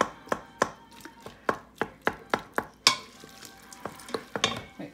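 Macaroni and cheese with mustard being stirred in a pressure cooker, a run of sharp, evenly spaced spoon knocks and scrapes against the metal pot, close and alone with faint sizzling between strokes.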